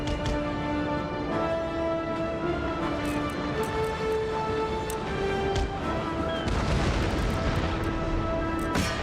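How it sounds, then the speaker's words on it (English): Cannon fire loaded with grape shot in the video game Empire: Total War, a rumbling volley of booms breaking out late over sustained musical tones and ambient battle noise. "Switch to grape shots."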